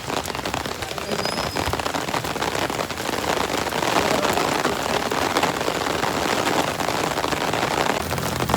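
Heavy rain pours down at Chilua Tal lake, drumming on an umbrella and the ground in a loud, steady, unbroken wash that lasts the whole stretch.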